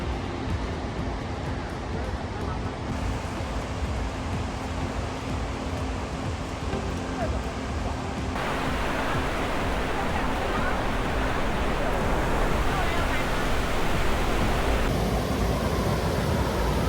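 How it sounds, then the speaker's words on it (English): Waterfall in Iceland, a steady broadband rushing roar of falling water that grows slightly louder and denser partway through, with no other sounds standing out. "This is the first waterfall."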